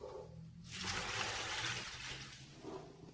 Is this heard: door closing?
no